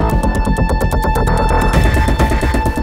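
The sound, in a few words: phone ringing unanswered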